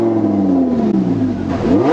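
A car engine fires up and revs hard, its rising and falling harmonic whine sweeping loudly and continuously across two seconds close by.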